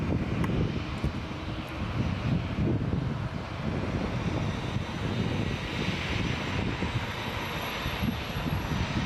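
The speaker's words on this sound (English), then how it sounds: "Beautiful landing" An Air Canada A320-200 landing at Toronto Pearson airport, a broad sustained engine roar with heavy wind buffeting on the microphone, steady and fairly loud throughout with no voices.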